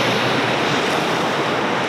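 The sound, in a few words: small waterfall and river running through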